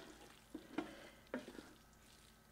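Soft, close stirring and scraping as vegetables are folded into a ground beef mixture for a casserole, with a few muffled thuds and gentle wet shuffles spaced irregularly.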